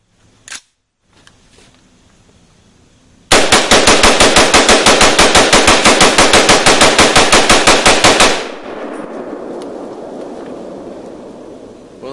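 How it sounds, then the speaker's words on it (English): A full magazine emptied in one long burst of rapid automatic fire outdoors, roughly five seconds of loud, evenly spaced close shots that stop abruptly, followed by a quieter wind-like hiss. "It did the mag dump flawlessly, even after being ran over."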